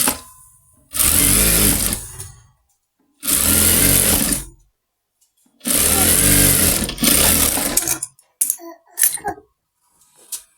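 A sewing machine stitches a salwar leg hem in three loud, steady bursts of fast mechanical whirring, each lasting about one to two seconds and separated by short pauses, followed by a few brief clicks and taps.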